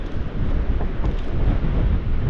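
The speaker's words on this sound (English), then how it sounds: "see if that wind comes down a bit." Strong wind buffets the microphone on the rough North Wales coast during a bass fishing session, a loud, continuous low roar and rumble with no voices.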